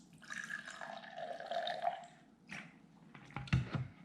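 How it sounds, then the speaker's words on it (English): Vinegar poured into a small container for a penny experiment, a short burbling, gurgling liquid pour near the mic, then a brief pause and a few splashy drips and clunks at the end. "So I'm gonna put some vinegar in here."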